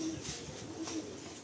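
Giribaz pigeons coo softly in low, throaty repeated notes, faint and close against a quiet background, with no speech.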